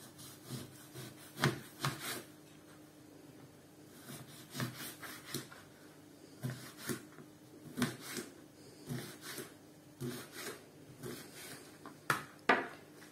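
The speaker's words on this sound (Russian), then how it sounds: "Для этого надо будет лимон нарезать на кусочки." A knife slices a lemon into pieces on a board, giving a series of irregular, close cutting and scraping strokes with short pauses between them, fairly quiet and with no voices.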